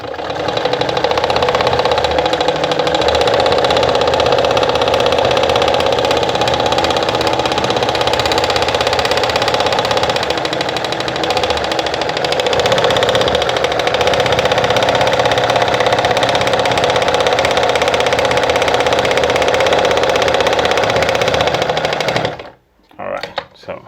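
A Pfaff 210 sewing machine runs steadily while stitching a disc cam pattern, giving a loud, continuous mechanical whir for about twenty-two seconds before it stops abruptly.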